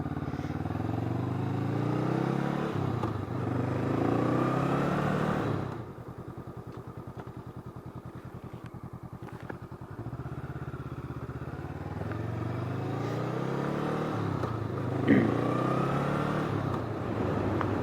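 Motorcycle riding on a freezing cold winter day, a steady engine drone and road rumble that drops to a lower, even idle-like throb midway before the louder riding sound returns.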